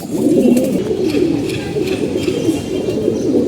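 A pigeon recovering from a month-long illness coos steadily and fairly loudly at close range, low rolling calls repeating without pause through the whole stretch.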